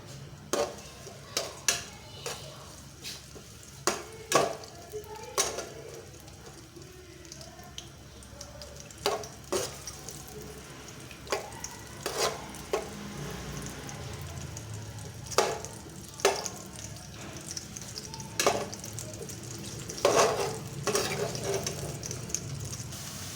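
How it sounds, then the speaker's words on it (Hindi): Onions fry in hot oil in a pot as they brown, giving a soft, steady sizzle broken by repeated sharp clinks and scrapes of a spoon stirring against the pan. "अब हम इसमें प्याज डालेंगे और प्याज को हल्का ब्राउन कर देंगे।"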